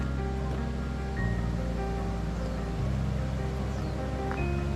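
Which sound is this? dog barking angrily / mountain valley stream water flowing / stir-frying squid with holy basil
mountain valley stream water flowing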